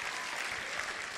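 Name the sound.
audience applause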